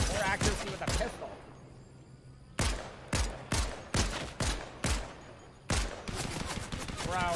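A Gatling gun fires in Fortnite in a string of sharp, rapid bursts, some clustered and some spaced apart, fairly close and loud, with gamer voices mixed in.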